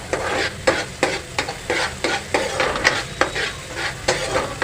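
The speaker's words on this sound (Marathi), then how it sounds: "छानपैकी बटर आणि तेलामध्ये शिमला मिरची फ्राय करा" Finely chopped capsicum frying in butter and oil for pav bhaji, with a steady sizzle broken by rhythmic scraping strokes of a spatula stirring the pan.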